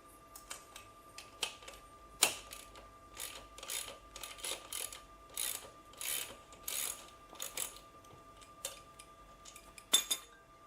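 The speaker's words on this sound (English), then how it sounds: "the first step you want to do is loosen the axle nut and take it off. So you'll need a socket wrench, 19mm" A socket wrench loosens a motorcycle axle nut, giving quiet, close ratcheting clicks and metallic clinks in short irregular bursts, with a few sharper taps, in an otherwise hushed space.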